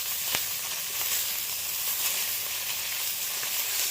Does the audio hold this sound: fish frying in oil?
yes